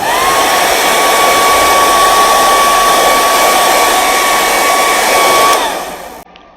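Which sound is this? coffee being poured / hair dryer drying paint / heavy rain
hair dryer drying paint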